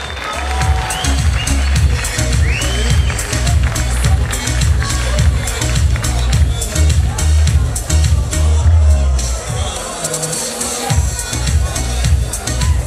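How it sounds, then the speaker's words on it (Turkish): An audience at an MMA event in Yalova applauds a team with dense, sustained clapping and crowd noise that lasts throughout, with a voice heard over it. "Ve bir alkışla bu arkamdaki ekibi alalım mı Yalova?"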